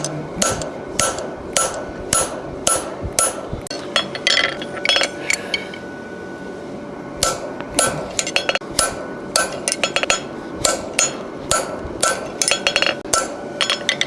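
Sharp metallic hammer blows drive a fuller into hot steel while forging horseshoes, struck in quick rhythmic bursts with a short pause midway, loud and close with ringing anvil clinks.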